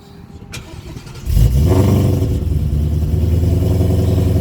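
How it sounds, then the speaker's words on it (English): A manual Ford Mustang engine cranks and fires up after a click, catching at once into a loud, steady, deep idle close by. "Let's turn it on because it is a manual."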